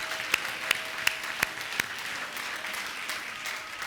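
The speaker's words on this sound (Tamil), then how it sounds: "கைதட்டுங்க." Sparse applause at a church promise service, a few sharp, loud claps spaced about evenly at first, then fading into quieter scattered clapping.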